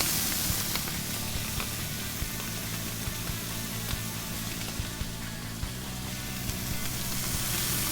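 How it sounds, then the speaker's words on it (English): Scallops searing in oil in a hot pan give off a steady, loud sizzle and hiss that holds constant and close throughout, with no talking. "Once you put those scallops down, don't move them. Let them sit there and sear."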